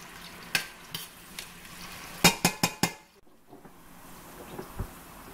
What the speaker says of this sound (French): Pendant que mes oignons cuisent,